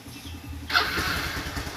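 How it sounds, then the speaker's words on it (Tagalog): A 2011 Honda motorcycle engine, an XRM or CB110 small-displacement bike, cranks and fires up after a quiet moment, then settles into a steady, close, loud idle. "testing natin kung okay po ba yung motor natin"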